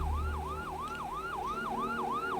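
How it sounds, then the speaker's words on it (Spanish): Wailing police patrol car siren sweeping up and down in a steady repeating cycle, loud and close, with a low engine rumble underneath. "se escuchó las sirenas de un coche patrulla de la policía"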